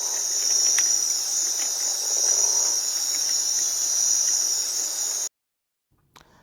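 A grasshopper stridulates by rubbing its wings together, making a continuous high, buzzing trill. The sound is steady and fairly close, then cuts off abruptly, leaving near silence with a faint rustle.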